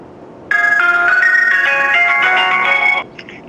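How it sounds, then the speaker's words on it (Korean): A telephone rings as an outgoing call connects: a loud, bright electronic melodic tone sounds alone for about two and a half seconds, then stops abruptly. "전화 연결을 한번 해보겠습니다"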